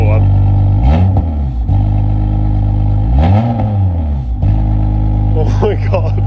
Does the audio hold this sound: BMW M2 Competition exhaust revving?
yes